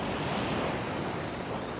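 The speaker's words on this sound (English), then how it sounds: "wherever I go, the waves are crashing" Ocean waves crash onto coastal rocks in a steady, loud wash of surf with wind noise over the microphone, filling the whole moment without any voices.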